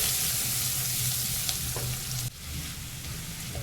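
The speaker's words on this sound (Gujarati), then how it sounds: "આ લસણ પહેલાં એડ કરી દેવાનું. ઝીણું ઝીણું સમારેલું. આપણે અમુક સમારેલું રાખ્યું હોય અને લસણ ચડવા દેવાનું થોડું." Finely chopped garlic fries with curry leaves in hot oil for dal palak, giving a steady, close hiss of sizzling that runs throughout with a small dip near the middle.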